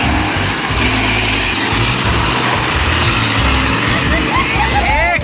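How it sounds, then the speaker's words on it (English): A giant, fully loaded logging truck drives in a forest setting, its heavy engine rumble steady and loud throughout with brief higher chirps near the end; no talk is heard. "watch this giant fully loaded truck attempting to cross a river where no bridge exists"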